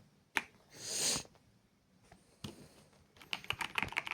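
Keys clacking on a Hator Icefall Pro mechanical keyboard, a few scattered presses then a quick run of rapid typing, close and crisp with a brief rustle early on.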